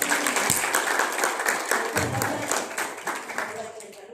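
Audience applause at a Thai etiquette lesson on the wai greeting, a steady patter of many hands clapping close by, with a brief spoken voice over it.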